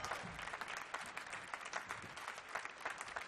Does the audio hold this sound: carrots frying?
no